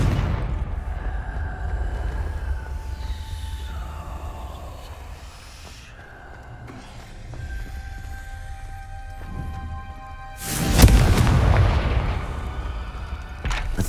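Confringo fire spell from Hogwarts Legacy blasting, with a deep booming explosion and crackling burst late in the clip after a stretch of low ambient rumble and tonal game sounds.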